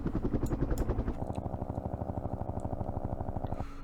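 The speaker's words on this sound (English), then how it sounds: "We have helicopters coming in to help out." Helicopters arrive in the Vietnam-era wargame Campaign Series Vietnam, their rotors thumping in a steady rapid rhythm, heavy at first and then settling into a continuous whirring drone.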